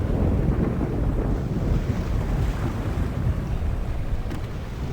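Wind of an approaching storm at sea in the adventure game The Longest Journey: a loud, continuous rushing roar with low rumbling gusts and a wash like surf, steady throughout with no voices.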